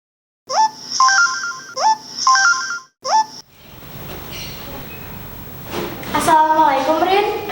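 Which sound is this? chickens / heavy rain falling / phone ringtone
phone ringtone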